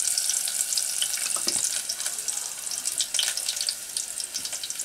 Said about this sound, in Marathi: तेल गरम झालं आहे तर आईने आता मस्त लसूण टाकले, 4-5 लसूण टाकायचं आणि त्याच्यामध्ये थोडासा कांदा.